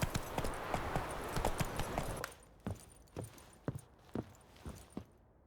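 Horse hooves clip-clopping in The Witcher 3, a steady run of close, sharp hoof strikes over a busy game backdrop that drops away midway, leaving slower, distinct clops alone.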